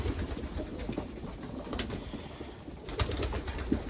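Pigeons feeding on cabbage and barley in a loft, with soft, low cooing and pecking running steadily throughout, plus a couple of brief wing or movement bursts near the end.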